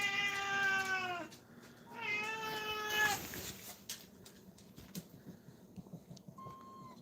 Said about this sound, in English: Her meows are the cutest thing in the world.